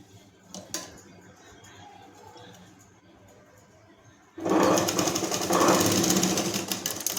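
A sewing machine stitches a plate onto a balloon-sleeve blouse, starting partway through with a loud, steady, rapid whirring that runs to the end after a quieter stretch of soft handling noises.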